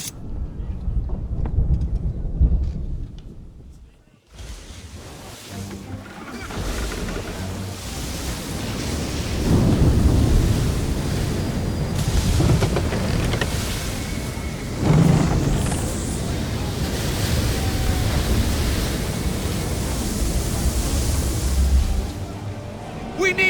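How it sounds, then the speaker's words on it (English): A storm at sea rages around a sailing ship in Assassin's Creed III, with loud rushing wind, crashing waves and creaking vessel noise swelling after a quiet opening, a heavy thunder-like surge at the middle, and shouting voices mixed in. "You wish us to sail into the storm?"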